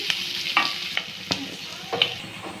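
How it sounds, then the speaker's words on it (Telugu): Green chillies and onions frying in a pan, a soft sizzle broken by several scraping stirs of a spoon at an uneven rhythm. "రెండు పచ్చిమిర్చి కూడా వేసి బాగా ఫ్రై చేస్తాను"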